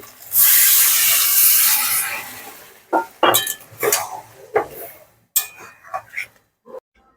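Water is poured into a hot pan of spiced curry, bursting into a loud hiss and sizzle that fades, followed by clinks of a utensil against the pan.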